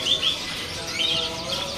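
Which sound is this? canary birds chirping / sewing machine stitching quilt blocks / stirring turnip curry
canary birds chirping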